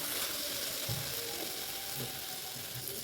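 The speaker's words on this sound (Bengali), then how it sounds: "দেখুন কত সুন্দর ভাজাটা হচ্ছে।" Diced watermelon rind fries in a pan at home, a soft, continuous sizzle close by with occasional scraping clicks from stirring.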